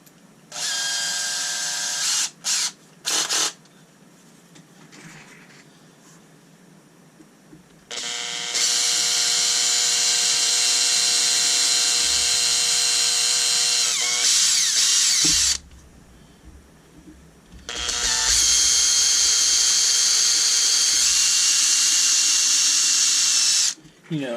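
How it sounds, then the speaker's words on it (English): A power drill pre-drills screw holes in a Fisher STV-875 speaker cabinet, whining in two short bursts, then two long steady high-pitched runs of several seconds each, close and loud with quiet gaps between. "I'm going to go ahead and pre-drill"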